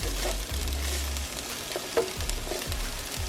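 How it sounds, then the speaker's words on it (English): Onions browning in a pan for Swedish meatballs give off a soft, continuous sizzle, with a few clinks and stirring scrapes over low hum and no talk. "So we browning these onions."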